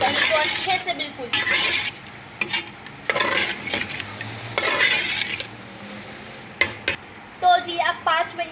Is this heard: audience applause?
no